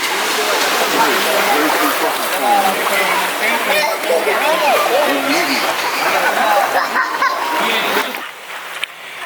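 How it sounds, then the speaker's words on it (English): Steady rushing, splashing water from an old water mill at Juniper Springs, Florida fills the scene, loud and continuous, with people chattering over it before it briefly drops off near the end. "that's the old water mill right there you can hear in the background"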